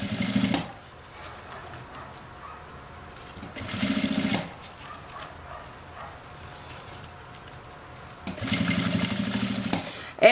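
A sewing machine stitches a zipper pouch for a toothbrush kit in three short bursts of loud, close whirring, separated by quiet pauses, with no talking.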